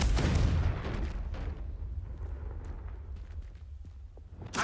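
A Confringo blasting spell explodes in a Hogwarts wizard video game, opening with a loud, booming blast that rolls off into a long rumbling tail, then a sharp crack near the end.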